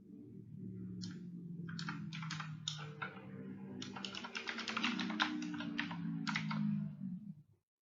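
Code is typed on a computer keyboard in rapid clicking bursts with short pauses, close and clear over a low steady hum, with no speech.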